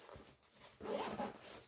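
A double zipper being pulled along a soft night vision storage pouch, one brief quiet zip that grows into a louder rasping stroke over about a second, close up with no talk.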